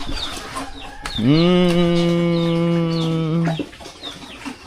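Young farm birds about a week old call out in one sustained, loud, drawn-out cry lasting a couple of seconds, with soft chirps and clucks scattered around it.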